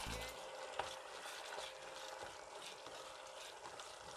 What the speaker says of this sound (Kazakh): Оны тауық етіне қосып қуырып жібереміз